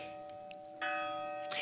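A procession bell rings during Holy Week in Zamora, a steady sustained tone that swells with a stronger strike midway and a brighter hit near the end.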